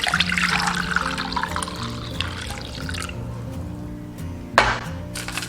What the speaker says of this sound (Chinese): 倒入盆中放凉。